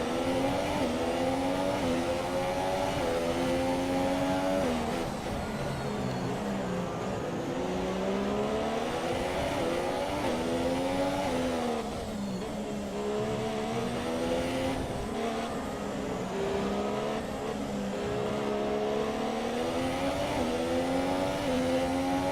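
Formula 1 race car engine in F1 2017 on a high-speed lap of the Austria circuit, a continuous loud high-revving whine that climbs and drops through repeated gear shifts and braking zones, steady throughout with no talk.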